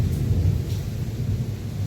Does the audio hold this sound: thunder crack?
yes